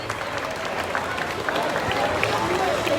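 An excited crowd on opening day at Disney's Hollywood Studios, a dense, steady roar of cheering and clapping close around, with voices mixed in.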